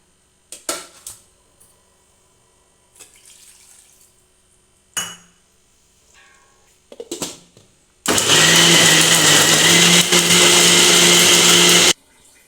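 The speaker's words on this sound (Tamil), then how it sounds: "அப்படியே ரெண்டு பாதியாக அரைச்சிக்கலாம்." A mixer grinder blends cut tomato halves for a spicy hotel-style kara chutney, roaring loud and steady for about four seconds after a few scattered clinks and handling knocks.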